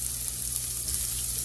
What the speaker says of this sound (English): garlic and ginger. I usually fry or stir fry them together